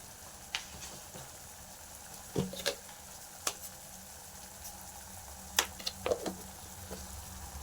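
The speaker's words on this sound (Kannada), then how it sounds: "ಒಂದು ಎರಡು ನಿಮಿಷ ಮಸಾಲೆ ಜೊತೆ ಫ್ರೈ ಮಾಡಿದ್ರೆ ಸಾಕು" Masala with turmeric and salt fries in oil for a paneer gravy, a faint, low, steady sizzle broken by scattered soft clicks and spoon scrapes, heard close and without speech.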